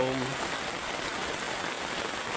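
Steady, dense hiss of rain falling on a surface, constant throughout, with a brief hum of voice at the very start.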